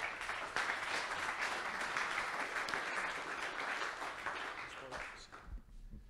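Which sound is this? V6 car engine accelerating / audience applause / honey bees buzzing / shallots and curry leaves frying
audience applause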